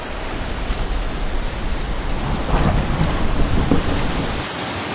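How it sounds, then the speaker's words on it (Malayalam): Rain and thunder on a stormy night: a dense, steady downpour with a low rumble of thunder swelling near the middle, continuous throughout before it suddenly drops away at the end. "അന്നൊരു മഴ പെയ്യണ രാത്രിയായിരുന്നു."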